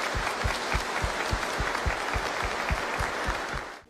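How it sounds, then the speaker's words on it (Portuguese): A church congregation applauds during Sunday morning mass, a full, continuous round of clapping with a rhythmic pulse of unison claps, fading out at the very end. "nós queremos dar uma salva de palmas de agradecimento"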